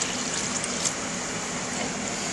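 Chicken stock made from bouillon cubes dissolved in boiled water, poured into a pot for tomato Creole sauce; a steady, even pouring wash that runs continuously and fairly close.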